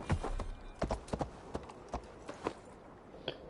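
A video game horse's hooves clip-clop at an uneven walking pace, sharp knocks over a quiet background with no talking.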